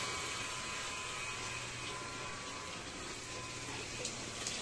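Water runs from a faucet fed by a 0.5 hp electric water pump, a faint, even hiss and patter with a low steady motor hum beneath, continuous and without speech.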